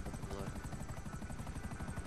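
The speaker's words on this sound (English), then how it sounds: "There's a chopper, watch out." A helicopter whirs in Grand Theft Auto V Online, a loud steady rotor chop pulsing rapidly throughout, taking off near the in-game airport with no talk over it.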